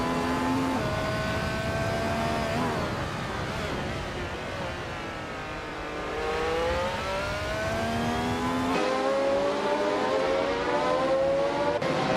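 Race cars battle closely on track with several engines droning at once. Their whining notes shift pitch as they rev and change gears, and the sound stays loud and steady throughout.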